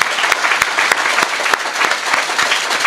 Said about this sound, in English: please give this wonderful panel another big round of applause